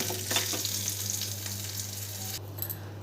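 Tempering for semiya lemon pulihora, with a little turmeric added, fries in a pan: a loud, steady, close sizzle with light stirring that cuts off abruptly near the end.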